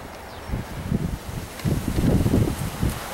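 Cold wind blows outdoors in gusty, low rumbling buffets against the microphone, rising and falling over a few seconds with a faint rustle and no talking.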